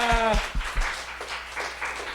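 A church congregation at a Thursday worship service breaks into applause after a voice speaks briefly at the start, the clapping thinner and more scattered than a full ovation.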